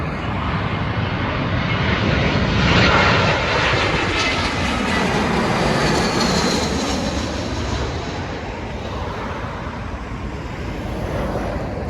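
A British Airways airliner passes over near Heathrow Airport, a loud, broad jet roar swelling to a peak early on and then slowly fading as it moves away, with steady ambient noise throughout.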